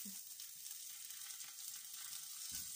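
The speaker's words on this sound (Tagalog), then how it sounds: "Nag-melt na po yung butter." Butter melts and sizzles in a pan with a faint, steady hiss that continues throughout the clip, with a soft low knock near the start and near the end.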